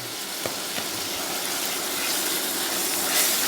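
Cento double concentrate tomato paste sizzles in a pot as it is stirred, a steady broadband hiss that swells slightly toward the end with a couple of soft scrapes.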